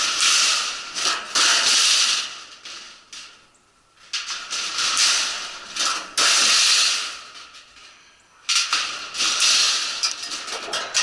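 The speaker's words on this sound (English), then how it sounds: "snip the corners." Metal snips cut the corners of a sheet metal HVAC duct transition in bursts of harsh, hissing crunch, broken by short pauses, close and fairly loud with no speech.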